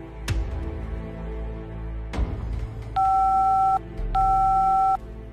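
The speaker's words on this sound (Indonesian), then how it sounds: "Cari sekarang juga nomor telepon rumah sakit di mana Aisyah bekerja" A telephone being dialed to reach a hospital: two loud handset clunks, then two bursts of steady electronic dialing tones, clear and close, with no talk.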